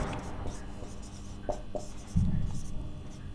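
Chalk or marker writing on a board during a Hindi-language geography lesson on the solar system, with a few short scratchy strokes sounding faint and close amid room noise.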